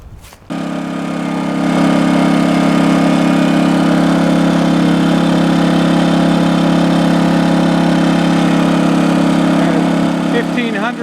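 A new portable 1600-watt generator runs through its break-in, its small engine droning loudly and steadily at close range after a brief start, with a voice heard in the background.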